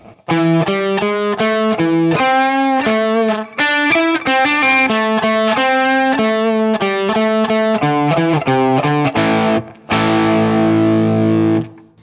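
Distorted electric guitar plays a riff at a slow pace, as a loud, continuous run of picked notes ending on a ringing chord.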